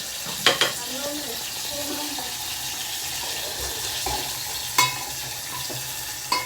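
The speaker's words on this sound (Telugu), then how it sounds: "ఇది కూడా బాగా ఫ్రై చేసుకోవాలి" Dried prawns frying in a pan, a steady close sizzle with a few sharp clinks of a spatula against the pan, no talking.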